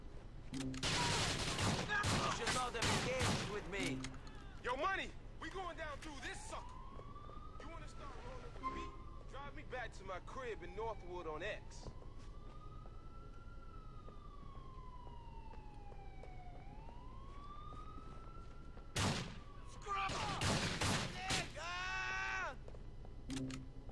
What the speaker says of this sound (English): Cops are shooting at me.